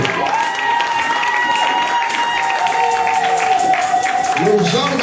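A wedding congregation cheers and claps for the couple, with loud crowd shouting, applause and children's voices, and a sustained tone from music or a microphone running through the sound.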